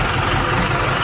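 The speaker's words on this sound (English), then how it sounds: "So right now the motor is running with zero oil in it." An engine running with zero oil in it drones steadily at idle, close and loud, with a rough low rumble and no talk.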